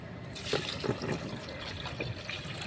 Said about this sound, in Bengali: আমি 2 মিক্সির বাটির মেপে আমি জল দিয়ে দিচ্ছি।